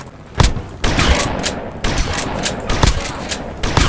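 Rapid bursts of Roblox gunfire crack repeatedly in quick volleys, loud and close, with brief gaps between the strings of shots, as a car is shot at.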